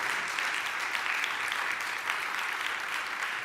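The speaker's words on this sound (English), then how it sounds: "And I hope you can hear the applause." Steady, dense applause from an audience, a continuous even wash of many hands clapping with no pauses and no voices on top.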